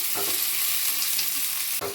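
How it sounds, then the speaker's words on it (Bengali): Prawns and onions frying in a pan, a steady loud sizzle with a few scraping stirs of the spatula, close up and with no talking. "এর সাথেই আমি চিংড়ি মাছটা দিয়ে ভালো করে ভাজা ভাজা করে নেব"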